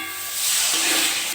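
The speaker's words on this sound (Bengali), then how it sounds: "আমি একটু জল দিয়ে দেবো" Water is poured onto hot masala cooking in a pan for a potato and fish curry, setting off a loud, sudden steam hiss that swells and holds for about a second.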